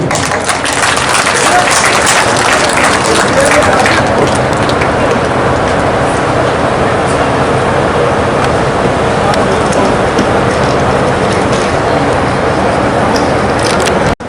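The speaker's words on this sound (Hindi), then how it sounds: "आप सबों से तालियों की उम्मीद है।" Audience applause at the grand opening ceremony of Birla Open Minds International School in Darbhanga, a dense, steady wash of clapping that holds at full loudness for about fourteen seconds before cutting off.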